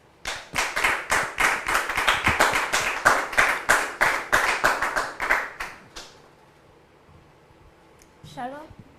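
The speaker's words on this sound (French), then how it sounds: "sous vos applaudissements, s'il vous plaît" Studio audience clapping in steady rhythmic bursts for about six seconds on a French television talk show, loud and close, then fading to near silence before a voice briefly speaks.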